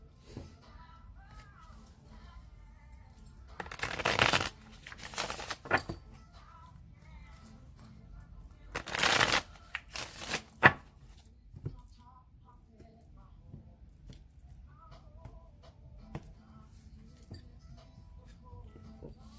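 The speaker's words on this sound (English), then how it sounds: "Y'all saw me shuffle these cards." Two short bursts of tarot cards being shuffled, crisp papery riffles a few seconds apart, over a quiet room with faint talk.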